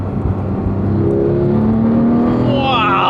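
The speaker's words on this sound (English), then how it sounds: "It has a rip-roaring flat six snarl that when you're on full throttle, there's an induction noise that makes you feel like you're in a race car" A Porsche 991.2 911 GT3 flat-six engine pulls hard at full throttle, its snarling tone climbing steadily in pitch, loud and close from inside the car, with no talk over it.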